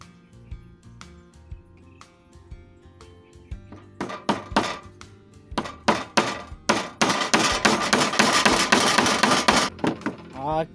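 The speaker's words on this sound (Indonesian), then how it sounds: "Okay, aku paku dulu lah." Nails are hammered into wood while a small mini toy is built. Sparse taps at first build into a fast, loud run of sharp, ringing strikes close by.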